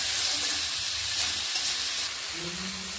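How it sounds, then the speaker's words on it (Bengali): Mixed vegetables with salt and turmeric fry in a hot pan, a continuous loud sizzle and hiss with low rumbling underneath that drops slightly in level partway through, close up and without talk. "নুন ও হলুদ গুঁড়োগুলো মিশিয়ে ভালোভাবে ভেজে নিচ্ছি"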